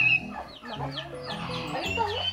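Farm turkeys and ducks giving a run of close, busy gobbling and clucking calls, with a voice briefly audible among the birds.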